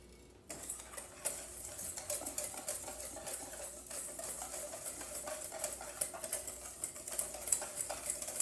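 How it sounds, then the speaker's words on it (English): Dry waffle ingredients being mixed in a bowl for a half batch, with steady scraping and light clinking of a utensil against the bowl, close and continuous, no talking. "we're going to mix all our dry ingredients"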